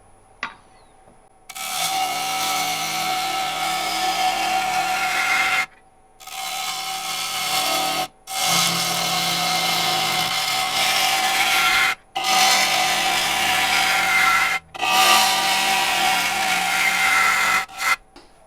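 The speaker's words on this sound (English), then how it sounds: "we'll take a few cuts before we move over to another bowl gouge" A bowl gouge cuts a spinning wooden bowl on a lathe, giving several sustained scraping, shearing passes separated by brief pauses, loud and close.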